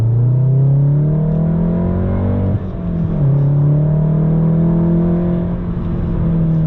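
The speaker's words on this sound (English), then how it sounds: "the exhaust sounds so good, like when you get on it" A Volkswagen MK7 Golf R with a Nameless Performance catback exhaust drones loudly and close, engine note climbing, briefly dipping around the midpoint, then rising and holding again.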